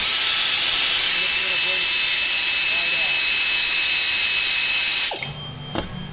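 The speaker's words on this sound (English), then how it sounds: "if you have a good air ratchet like this" An air ratchet spins out the pulley bolt on a Scion engine, a loud continuous high whirring hiss that runs steadily for about five seconds, then cuts off abruptly into a quieter shop with a brief clunk.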